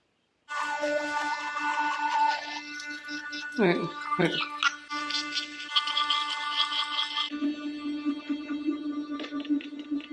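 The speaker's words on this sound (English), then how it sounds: "I just got done brushing my teeth" A toothbrush dipped in baking soda scrubs teeth continuously at close range, a steady brushing scrape, with voice-like sounds mixed in.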